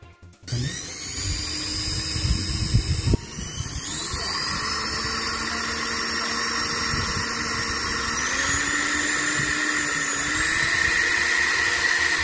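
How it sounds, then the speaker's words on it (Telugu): An electric drill whirs up to speed after a brief clatter, its high motor whine running steadily and shifting pitch slightly as it bores a hole through a pencil. "నెక్స్ట్ అయితే డ్రిల్ మెషిన్ తీసుకొని స్ట్రైట్గా పెట్టుకుని సేఫ్గా"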